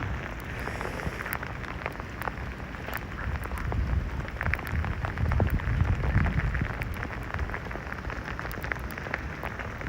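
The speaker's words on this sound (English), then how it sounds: "There's some big sleet pellets." Big sleet pellets patter steadily during a New York City sleet storm, a dense continuous rattle of small ticks and taps on surfaces, close and fairly loud, with no voices.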